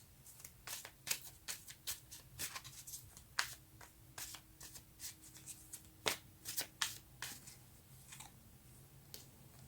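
Tarot cards being shuffled close up, a quick run of crisp riffling flutters and slaps repeating in irregular bursts, alone with no talking over it.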